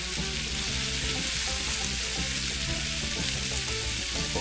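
Sliced onions and baby portobello mushrooms sautéing in a pan as the start of an onion and mushroom gravy, a loud, constant close sizzle with a low hum beneath and no speech.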